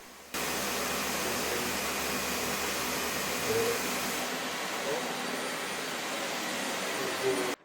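Dyson Ball Upright Animal Complete vacuum cleaner running steadily, a loud continuous whooshing motor and airflow roar that holds level throughout, no talk over it.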